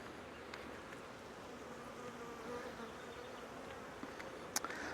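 Honey bees buzz in an open hive with a laying worker situation, a dense, steady drone close by with a few brief knocks toward the end.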